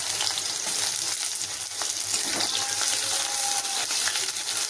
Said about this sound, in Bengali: পটলগুলোকে আমি লাল লাল করে ভেজে নেব।